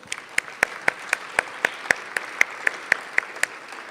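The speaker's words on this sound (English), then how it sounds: "If we can give them a big round of applause and welcome to their House of Representatives" Applause in a legislative House of Representatives chamber, dominated by sharp, evenly spaced claps at a quick steady rhythm over a soft bed of scattered clapping, moderately close.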